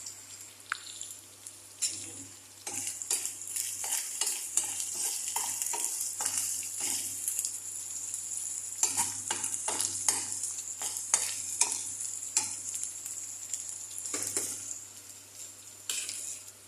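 Kangkong stems stir-fry in a small pot with a constant bright sizzle and repeated scraping and clinking of a spatula, close and steady, with no talk.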